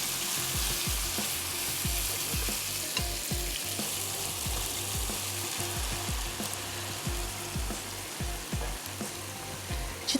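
Spinach stirred into sizzling prawn karahi, with a steady broadband frying hiss underneath a rhythmic series of low scraping stirs from a spoon working through the pan, close and continuous with no talk.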